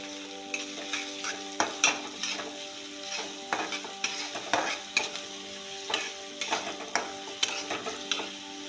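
Chopped onion being fried with cumin seeds in a pan for Maharashtrian pitla, a steady close sizzle with repeated scraping and stirring strokes of a spoon against the metal.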